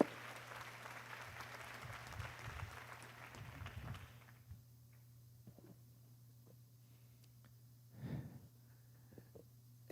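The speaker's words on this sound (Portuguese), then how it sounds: "Pode aplaudir." A church congregation claps for about four seconds, a soft diffuse applause over a low steady hum, then it dies away into near quiet with a brief rustle or breath later on.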